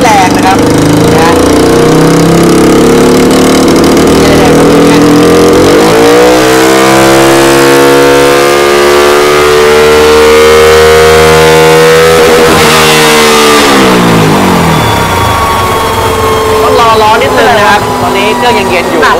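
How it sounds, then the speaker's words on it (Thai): A Honda Wave 125 motorcycle engine with an aftermarket ECU box, running rich, revs loudly up close, rising into a flapping, fluttery roar that holds and then falls back to a rough idle. "นี่คืออาการของเครื่องที่ทำออกมาแล้วหัวฉีดหนาไปนะครับเสียงก็จะกระพือกระพือกระพืออย่างเงี้ย"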